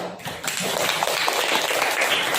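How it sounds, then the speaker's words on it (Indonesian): A classroom group claps for a student team after its presentation during a school teaching session in Kupang, a brief burst of dense hand claps that fills the room, steady throughout. "kita berikan tepuk tangan untuk kelompok 2"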